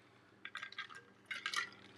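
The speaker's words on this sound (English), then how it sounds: "I'll get another drink of water here." A person takes a drink of water, with faint liquid sloshing and swallowing sounds in two short bursts close to the microphone against a quiet room hum.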